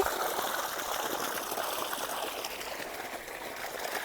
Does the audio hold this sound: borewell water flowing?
yes